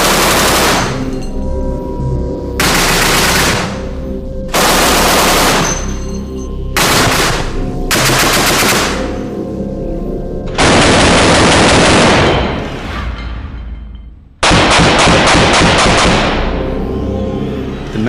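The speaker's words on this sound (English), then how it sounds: "Shoehorned into the Messerschmitt's tiny wings was this, the terrifying 20mm cannon." Messerschmitt 20mm wing cannon firing at a simulated aluminum Spitfire wing: several loud, rapid bursts of heavy automatic fire, each lasting a second or two, separated by short pauses, with longer sustained volleys toward the end.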